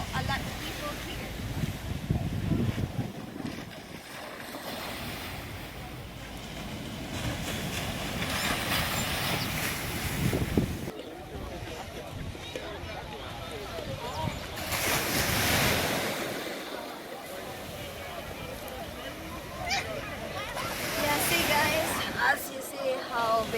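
Surf breaking and washing ashore on a Barbados beach, loud and continuous with swelling crashes, buffeted by heavy wind noise on the microphone.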